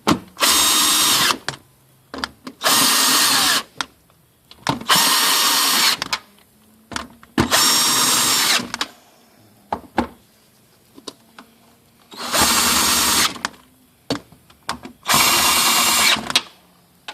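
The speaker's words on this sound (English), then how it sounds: "Get my little drill over here." A power drill tightening nuts while installing a fuel unit on a Mercedes S550 whirs in six loud bursts of about one to two seconds each, separated by short pauses with small clicks and clatter.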